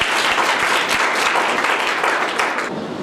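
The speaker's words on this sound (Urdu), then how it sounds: "ہم بائبل کے لیے تالیاں بجا سکتے ہیں" A church congregation at a Pentecost service claps loudly and continuously after a Bible reading, a thick, close wash of applause that fades slightly at the end.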